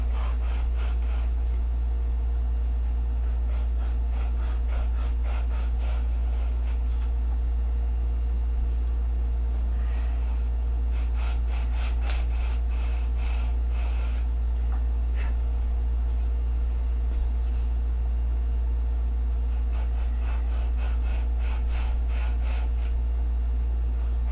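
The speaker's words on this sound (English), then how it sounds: "sand the slot" Foam model airplane wing being sanded along a slot, a steady abrasive rubbing with repeated back-and-forth strokes over a constant low hum, close and moderately loud.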